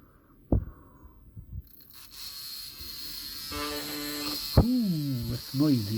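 A small 12-volt N-gauge can motor inside a Farish Class 66 model locomotive is powered up, starting as a steady whining hum after a brief fumble, with harmonic tones and a voice speaking over it near the end.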